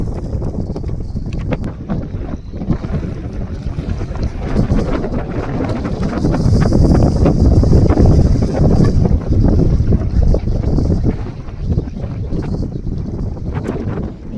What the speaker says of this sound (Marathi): आज लय हवा सुटली